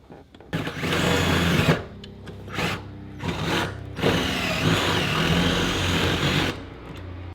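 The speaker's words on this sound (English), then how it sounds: "And then drill out the hole and make it bigger." A power drill whirs loudly in several bursts of varying length, enlarging a hole up close with short pauses between runs.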